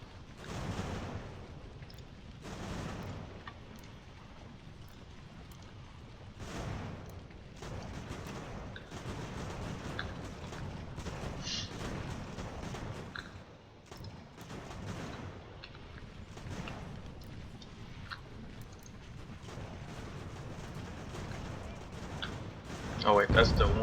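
Distant booms of artillery fire in the Ultimate General American Revolution strategy game, a scattered series of muffled shots over a low battlefield rumble with someone talking over them.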